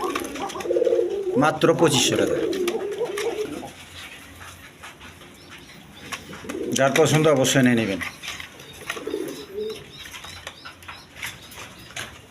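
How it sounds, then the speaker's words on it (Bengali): Large pigeons in a farm loft give a pair of throaty, rolling coos with a faint rustle of wings, while someone talks over them nearby. "দর্শকবৃন্দ, এখানে এক পেয়ার কবুতর আছে।"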